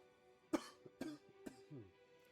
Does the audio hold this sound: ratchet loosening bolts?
no